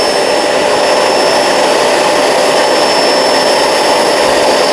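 A Kenmore Crossover Ultra vacuum cleaner running on carpet, a loud, steady high-pitched motor whine with a rushing airflow roar, very close and unbroken from start to finish.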